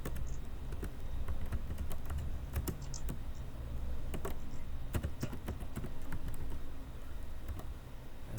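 Rapid, continuous clicking of computer keyboard keys while entering data into an academic information program, close and steady with brief pauses and no talking.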